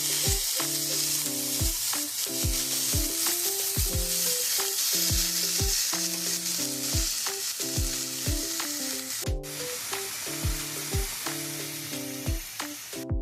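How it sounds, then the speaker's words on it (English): Red bell pepper and onion sautéing over medium heat, a steady sizzle with a regular pattern of tuneful tones running over it throughout, no talking. "We're going to let that saute over medium heat for 4 minutes."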